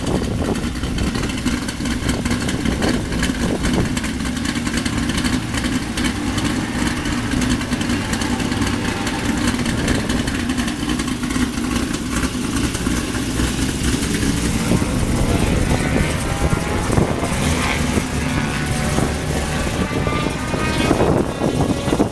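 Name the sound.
race car engine running at Pocono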